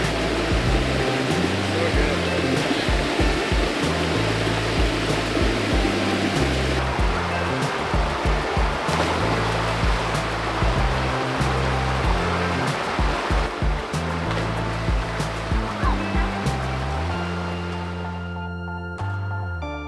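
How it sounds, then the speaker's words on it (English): A little stream in Krabi, Thailand, flows with a constant broad rush of water, steady and near, mixed with music playing over it. "There's this little stream here"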